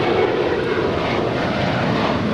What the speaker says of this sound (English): This is United Airlines flight 1737 departing to Austin. It's a 737-800.